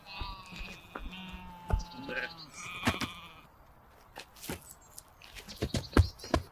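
Sheep bleat in a short, wavering call and then a second one, with a shout and other voices around them. Thumps and knocks come in and out.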